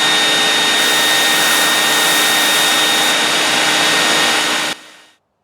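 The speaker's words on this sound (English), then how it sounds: "sticking the vacuum at various holes and blowing in compressed air to stir up dust" Steady loud rushing roar of a shop vacuum and compressed-air blower cleaning dust from inside a car frame's holes, constant and close for several seconds before cutting off abruptly and fading out.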